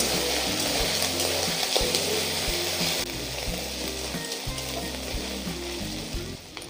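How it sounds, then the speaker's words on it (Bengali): Ginger-garlic paste sizzles steadily in a frying pan with raw satin sea fish for a Bengali curry, a constant close hiss over a low, pulsing hum with no one talking. "আদা রসুন বেটে রেখে দিয়েছিলাম, আমি দিয়ে দেব"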